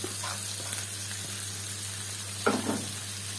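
Green peppers sizzling in a pan of ghee, suet fat and oil alongside kofta meatballs, a steady low frying hiss with a brief louder crackle and stir near the end.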